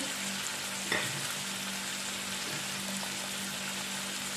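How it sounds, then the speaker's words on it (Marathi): Garlic fries in hot oil in a pan for a sprouted-grain usal, a steady close sizzle with a light clink of stirring near the start and no speech. "छान असे कडक होईपर्यंत परतून घ्यायचे त्याच्यात आपल्याला ही लसूण भेटून घेतलेली आहे ती टाकायची"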